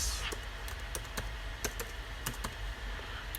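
A computer keyboard is typed on at close range, a quick irregular run of crisp key clicks over a quiet room hum, with no voices.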